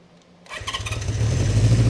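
A 1976 Honda CB550 chopper motorcycle engine cranking over and catching after near silence, then settling into a loud, rough, rising idle rumble.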